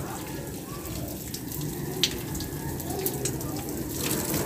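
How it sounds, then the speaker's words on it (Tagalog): Water sprayed from a hose onto freshly poured cement, a steady hissing spray with occasional splashes and spatters, moderately loud and continuous throughout. "pinapasiritan ng tubig yung bagong buhos na simento"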